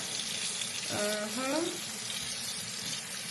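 Hot water streams steadily from a shower, a constant close hiss throughout, while a voice speaks briefly over it in the middle.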